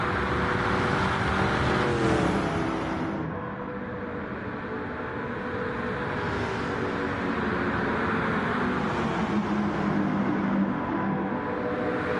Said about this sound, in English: Look at these cars scream off of turn number 4.